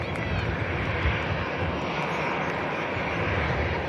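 A jet airliner taxis at Manchester Airport, its engines giving a continuous broad roaring hiss that stays steady and fairly loud throughout, with faint talk underneath.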